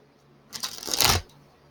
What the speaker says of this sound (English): I'm going to shuffle it up a couple times, and I'm going to break it down into two different piles.